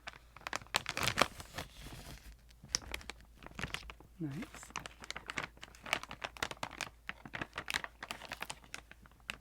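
A crinkly Halloween snack packaging bag is handled and pulled open up close, giving dense sharp crackles and rustles in rapid irregular bursts, with a soft voice speaking briefly.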